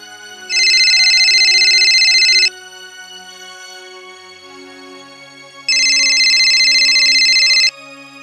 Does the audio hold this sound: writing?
no